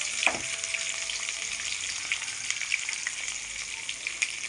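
Chopped onions and green chillies fry in hot oil for uggani, a steady close sizzle with a sharp crackle near the start and light spits scattered throughout.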